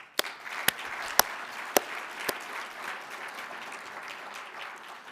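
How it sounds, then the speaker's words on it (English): An audience at an afternoon session of a professional conference applauds steadily throughout, a dense even wash of clapping with a few sharper close claps standing out near the start. "A massive round of applause, please."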